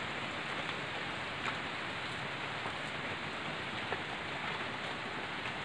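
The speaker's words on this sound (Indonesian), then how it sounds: "Ini kebetulan cuaca hujan." Steady rain falls in a dense, even hiss at an old garden house, with a few sharper drips standing out. No voices are heard.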